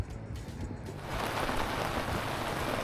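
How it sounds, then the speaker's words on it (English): Light rain falls outside an Arizona desert saloon on a windy day, starting as faint patters with gusty wind, then thickening after a second into a steady, soft hiss of drops on surfaces, with no talk. "And a little bit of rain."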